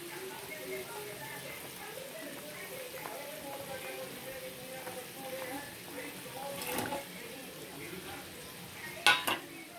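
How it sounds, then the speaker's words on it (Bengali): Katla fish curry gravy with brinjal and potato bubbling and simmering in a pan, a soft steady sizzle with occasional stirring clinks and a brief sharp scrape near the end, no voices. "দেখো আমার ঝোলটা ফুটে গেছে।"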